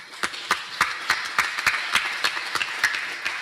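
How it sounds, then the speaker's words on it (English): Sparse, evenly spaced claps from a small audience at a live nature and clean energy summit podcast, sharp hand strikes roughly every quarter second ringing in a room with low background hum. "Give yourselves a round of applause"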